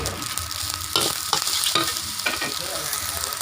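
Tom yum fried rice being tossed and stirred in a hot pan, with a steady close sizzle and several scraping, clattering strokes of the utensil, no voices.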